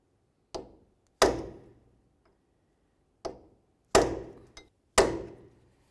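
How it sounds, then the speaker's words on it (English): Hammer and punch striking the edge of an axle nut on a 2002-2006 Honda CR-V wheel hub, five sharp metallic blows in an uneven rhythm, close and ringing briefly, with silence between. "we're just going to take a hammer and a punch"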